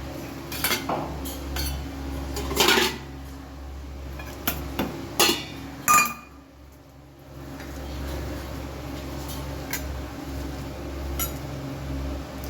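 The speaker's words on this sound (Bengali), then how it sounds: "আর সয়াবিন আর চিকেনের পেস্ট ভালো করে মিশিয়ে নিচ্ছি।" Soybean and chicken paste mixed in a bowl with a utensil, irregular clinks and scrapes of metal against the dish, some louder knocks, then a quiet pause before softer taps.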